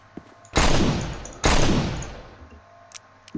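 Smith & Wesson .357 revolver fired in the video game No More Room In Hell: two heavy, booming shots about a second apart, each with a long rolling decay, loud and close.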